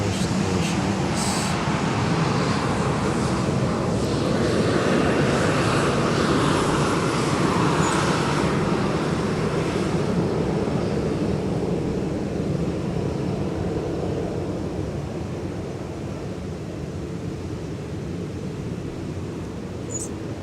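A Delta jet airliner passes at Minneapolis–St. Paul airport, its engine roar swelling to a loud broad rush and then slowly fading over twenty seconds, with no talk over it.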